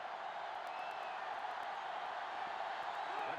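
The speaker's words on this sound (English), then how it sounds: "The crowd is really letting them hear it." A stadium crowd in the PlayStation 2 game NCAA Football 2005 roars in a steady, distant wash of cheering that holds at an even level without breaks.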